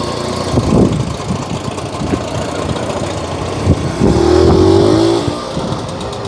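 A small single-cylinder engine with a manual gearbox chugs steadily nearby with a rough, knocking rhythm, briefly revving louder before settling back to idle.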